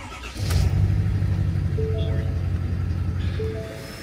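An older pickup truck's engine hums steadily while driving, a low continuous drone close by, with someone talking over it.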